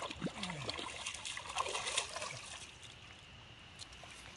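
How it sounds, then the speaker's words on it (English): A field-dressed wild hog carcass is dipped in water, giving soft splashes and trickling dribbles that fade to a quiet, steady flow outdoors. "We're going to dip her in the water."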